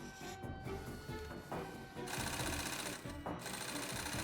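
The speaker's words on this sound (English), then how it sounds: "The pieces are stitched together using tough nylon thread." An industrial sewing machine stitches pieces of nylon-reinforced vinyl for a military stretcher bed with tough nylon thread, running as a steady, rapid mechanical whir that grows louder midway and briefly dips twice.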